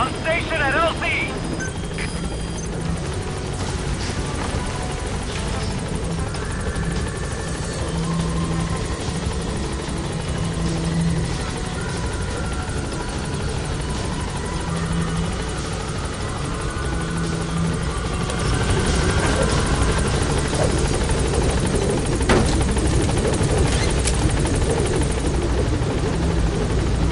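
Pequod helicopter from Metal Gear V arriving at a landing zone, its rotor thudding steadily and loudly throughout, swelling slightly near the end, with radio voices talking over it.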